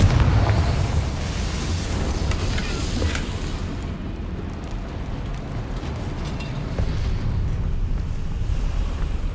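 A Confringo blasting spell explodes in the Hogwarts Legacy video game, a loud rumbling burst at the start that settles into a sustained roaring, noisy blast tail.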